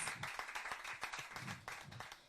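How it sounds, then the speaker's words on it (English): A short burst of applause, many hands clapping rapidly and fairly quietly, with no voices over it. "Please give her a round of applause."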